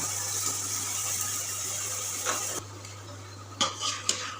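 Spices and sugared chicken pieces stirred in an oiled pan for Gandharaj chicken, a steady sizzling hiss under scraping, then a few sharp spoon clinks against the metal near the end, close and fairly quiet.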